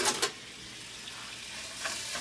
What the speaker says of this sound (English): you start chopping it up some more, moving it around